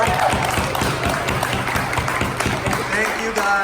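Tournament audience applauding the organizers of a Pokemon Go PvP regional event in Pittsburgh, a steady dense patter of clapping with crowd noise and voices mixed in throughout.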